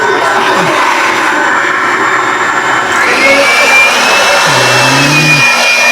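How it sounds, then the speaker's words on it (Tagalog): A powerful coin-operated car wash blower roars continuously at close range, its whine shifting in pitch midway, with voices talking faintly underneath. "Yan yung blower, no?"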